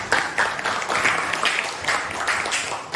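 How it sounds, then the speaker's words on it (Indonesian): A classroom gives a short burst of applause for a student named Fatul after an answer during a lesson on natural resource conservation. The claps are moderate and uneven, with murmured voices. "Tepuk tangan untuk Fatul."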